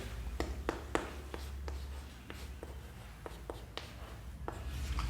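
Chalk or pen strokes on a board during a Class 11 maths lesson on properties of triangles, a quick irregular series of short scratchy taps and strokes over a low room hum, with no talk.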